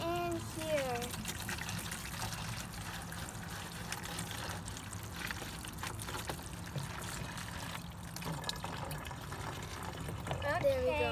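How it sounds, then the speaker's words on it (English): Water pours steadily into a container, a continuous gushing and splashing that holds for the whole stretch. "now I open this and I'm gonna pour the water in here"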